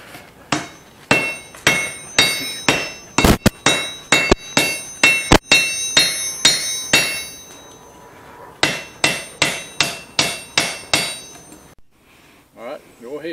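Blacksmith hammering metal, a loud, steady run of ringing strikes with some quick double blows, pausing briefly partway through before the rhythm resumes and then fades out.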